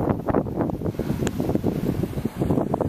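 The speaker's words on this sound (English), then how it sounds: "Starting to get pretty windy." Wind gusts on a hillside trail during a San Diego 100-mile ultramarathon, roaring low and rough against the microphone in a continuous, fluttering rush.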